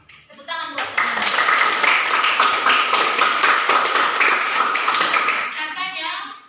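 A class of children claps for a classmate, with a burst of dense, sharp handclaps that starts suddenly, holds steady for several seconds, then tapers off, with children's voices faintly audible around it.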